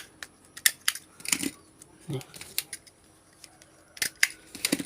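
A stapler snaps through banana leaf while a five-part offering cone is assembled, giving sharp, close clicks in small irregular clusters. Leaves rustle faintly between them, and a voice speaks quietly in the background.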